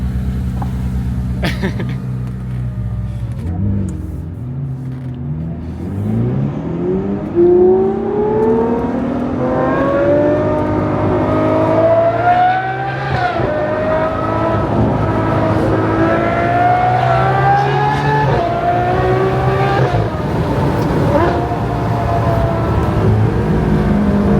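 A Novitec-exhausted supercar, called an A12 GTS, holds a deep steady idle, then revs repeatedly, its engine note rising and falling in several long sweeps, close and loud.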